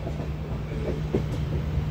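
Inside a passenger train running on rails out of Kacheguda, a steady low rumble with a faint rhythmic clatter and a sustained hum throughout.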